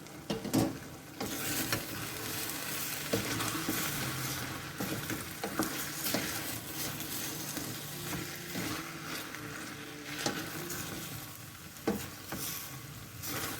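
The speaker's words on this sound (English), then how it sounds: "Make sure you use the wooden spoon and just scrape the bottom of the pan" Tuscan bean stew in a pan is stirred with a wooden spoon that scrapes the bottom, producing steady bubbling and sizzling with intermittent scraping and knocking sounds throughout.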